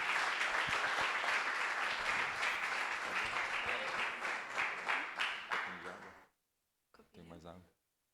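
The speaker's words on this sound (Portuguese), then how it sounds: "E as palmas louvam ao Senhor." Church congregation clapping in praise at the close of a Holy Communion service, a loud sustained burst of many hands that thins into scattered claps and stops, followed by a brief voice.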